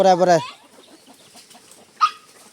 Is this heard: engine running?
no